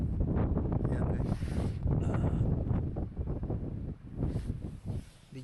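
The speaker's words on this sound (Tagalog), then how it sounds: "Mahangin pa yan eh." Wind gusts across a snowy road in Canada, buffeting the microphone with loud rumbling bursts that rise and fall, and a voice comes through faintly under the gusts.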